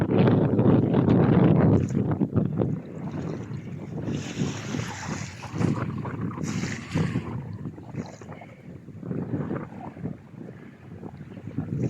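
Wind whipping across a stormy lake in a Belarusian village, with choppy waves splashing and a continuous loud rushing roar and microphone buffeting throughout.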